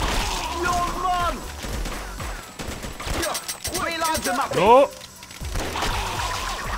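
Bursts of gunfire crackle and pop amid busy effects in the video game Not a Hero, with a voice briefly speaking over the noise.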